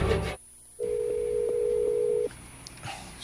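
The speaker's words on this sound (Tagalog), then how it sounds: "Sige na mag-ring yung cellphone ni Amelia" A steady electronic cellphone tone sounds for about a second and a half in a Bisaya-language drama scene, following a brief sharp cutoff, with faint room noise after it stops.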